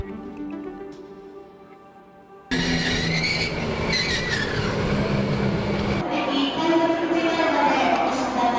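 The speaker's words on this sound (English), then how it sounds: "We made it onto the train, the romantic train." The Sagano Romantic Train rolls along its line near Kyoto, a loud continuous rumble of wheels on rails with rattling carriages and occasional clacks, following a brief quieter stretch with faint talk at the start.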